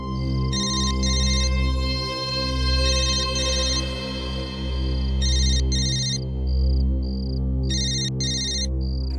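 A mobile phone ringtone plays for several seconds in repeated electronic bursts with short pauses, loud and close over a constant low droning background, with no talk.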